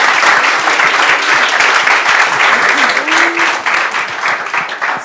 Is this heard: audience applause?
yes